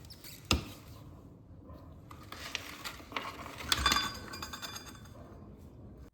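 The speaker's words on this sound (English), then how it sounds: "Chain is then dismissed from the rear sprocket." Light metallic clinks and ratcheting clicks of a KTM Duke 390 drive chain being worked off the rear sprocket, a few sharp taps among soft rattles, close and quiet.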